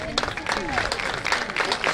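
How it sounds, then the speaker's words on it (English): A crowd at a high school football game applauds for the senior cheer team, a steady rolling patter of clapping mixed with cheers and a voice over it. "Can we have a big round of applause for all of our seniors?"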